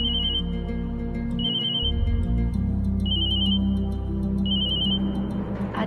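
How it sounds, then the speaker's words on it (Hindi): A telephone rings in repeated electronic bursts, four short ringing phrases spaced about a second apart, loud over a steady low music bed in an indoor scene from a Hindi TV serial. "किसका फोन है?"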